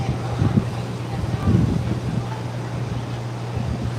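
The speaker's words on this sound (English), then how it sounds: "Winds are blowing 30, 35 knots plus gusts." Strong wind of 30 to 35 knots with gusts buffets the open deck of the cruise ship Norwegian Aqua, a loud, rushing roar against the microphone with a low hum beneath it.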